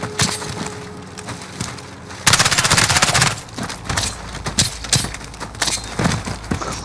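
Rapid automatic gunfire in Call of Duty: Modern Warfare campaign gameplay on Xbox One X, a dense burst of rattling shots followed by scattered sharp single cracks and impacts, loud and close.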